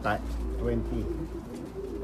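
Racing pigeon cooing up close in a loft, soft throaty repeated coos with a low rumbling background and some talk nearby.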